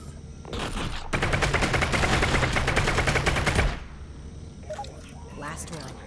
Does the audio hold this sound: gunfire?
yes